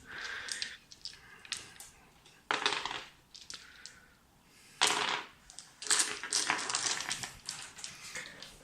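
Ten dice for a Kings of War tabletop wargame clatter and rattle in several close, sharp bursts, with quieter shuffling between them and no talking.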